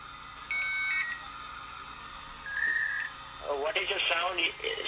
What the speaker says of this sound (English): Almost, it's just dialing.